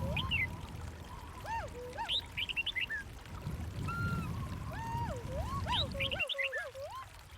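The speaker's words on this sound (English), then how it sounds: "Cold rain poured outside, wind howling through the jungle." Cold rain pours steadily outside a riverside hut in the jungle, a continuous loud wash of noise, with repeated whistling bird calls sounding above it throughout.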